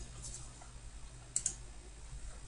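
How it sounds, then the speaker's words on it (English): A couple of quick computer keyboard keystrokes click softly and close together against a low steady hum, brief and faint with no talking. "I'm just going to type in drawn with a colon"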